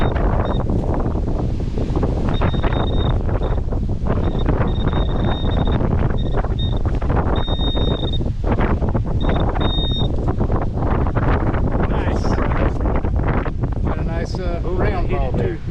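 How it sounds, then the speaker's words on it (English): Strong outdoor wind buffets the microphone throughout, a loud, constant roaring rumble under intermittent talk, with a few faint electronic beeps from a metal detector at a cavalry site. "Oh, I'm sorry for the wind, it's terrible."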